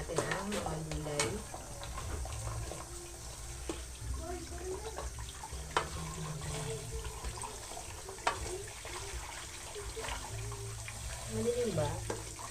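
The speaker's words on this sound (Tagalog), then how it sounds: "Hugasan na po natin ang mga gulay." Vegetables for ginataang gulay being rinsed under a running kitchen tap, water splashing steadily over sink noise with occasional dish clatter and a voice speaking throughout.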